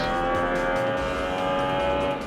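Formula One race car accelerating hard at the Malaysian Grand Prix, a loud, sustained high-pitched engine whine steady for the whole stretch with no voices.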